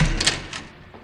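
A radio-drama door opens in a brief burst of close wooden scraping and clatter, with no other sound alongside it.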